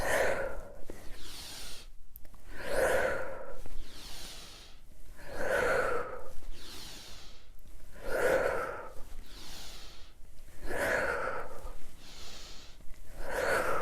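Slow, rhythmic breathing during yoga cobra pose, with about eight audible cycles of deep inhales and exhales repeating every second or two, close and clear with no speech.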